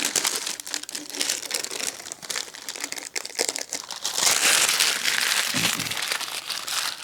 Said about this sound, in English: So I'm going to just go ahead and peel back the masking paper.